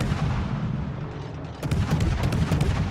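Naval guns from the French cruiser Colbert in World of Warships thunder in a dense, continuous barrage, with sharper salvo cracks breaking through the sustained booming roar toward the end.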